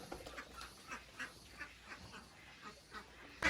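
Ducks raised on a farm quack in a quiet outdoor setting, with a series of short, nasal calls spaced irregularly across the moment, faint and a little distant, followed by a sudden louder burst at the end.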